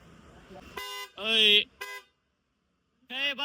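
A car's horn is tested at a Pune accessories shop: a few short, bright honks, one held a bit longer, then a pause before a final toot, close and loud, with voices talking nearby.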